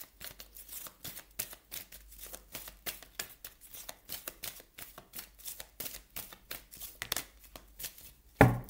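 Soul coaching oracle cards being shuffled by hand in a tarot-style reading, a rapid, close series of crisp card flicks and slaps in an even rhythm, ending with a louder thump, no talking.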